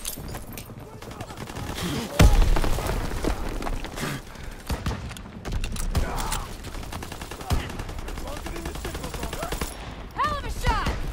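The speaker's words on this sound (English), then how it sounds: "Taking heavy fire!" Heavy gunfire rattles through a video game battle, with dense overlapping bursts and loud booming shots near and far, while voices call out over the din throughout.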